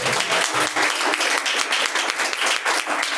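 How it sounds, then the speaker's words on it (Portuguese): A congregation at a Pentecostal church service applauds in praise, with dense, steady clapping from many hands that fills the room evenly from start to finish. "As palmas que louvam e agradecem a Deus."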